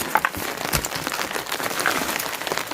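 Rain falls outdoors in a rural village setting, a dense, steady crackling patter of drops hitting surfaces, fairly close and continuous with no talk.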